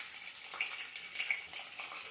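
Dried red chillies, whole garlic and cumin seeds frying in hot oil in a pan for Tamil kuzhambu, giving a steady, fairly quiet hiss and sizzle with small crackling pops, no talking.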